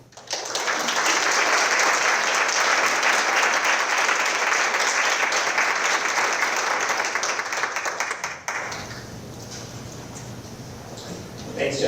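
Audience applauding to welcome a conference panel, a loud, steady burst of clapping that fills the room for about eight seconds, then drops off into quieter room sound as a voice starts speaking.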